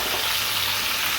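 A hilsa fish head frying in oil with salt and sugar gives off a steady, close sizzle with no pauses and no voices.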